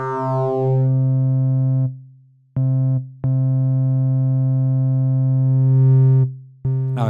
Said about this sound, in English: This gives us more complex tones with a lot more harmonics.